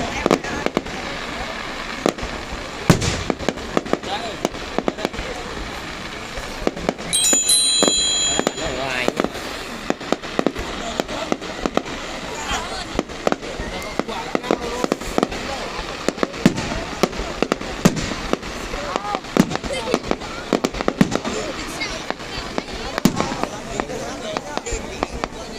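Art fireworks burst over My Dinh Stadium for New Year, a dense run of sharp crackles and booming pops continuing throughout, with people talking over the display.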